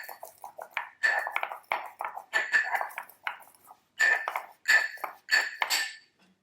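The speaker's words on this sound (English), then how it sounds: "We add coriander seeds, that is, not fresh coriander. Grind it up a little." Coriander seeds being ground, heard as a rhythmic series of close, gritty scraping and clinking strokes in short bursts, loud and alone without talk.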